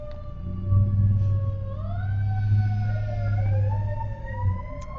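Emergency vehicle sirens wail outside, rising and falling in pitch over a steady low rumble of traffic, fairly distant and continuous throughout.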